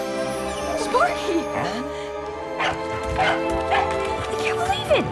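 A dog barks and yips in a trailer scene for the animated film Frankenweenie, short excited barks and whimpers popping up amid music and overlapping voices.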